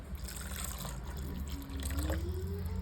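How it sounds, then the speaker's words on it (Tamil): Water pours steadily into a pot of fish curry, a continuous splashing rush whose pitch rises gradually as the vessel fills. "இப்போ நம்ம இதில் தண்ணி சேர்த்துக்கலாம்."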